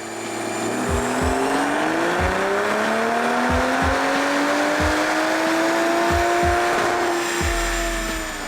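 A tuned BMW M340i with the B58 engine roars through a pull on a Dynojet dyno, its pitch climbing steadily under loud, sustained engine noise with regular thumping beats.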